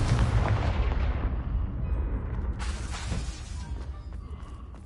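Bombarda and Confringo spell explosions in Hogwarts Legacy, a loud rumbling blast that slowly decays, followed by a second crackling burst, with no talking.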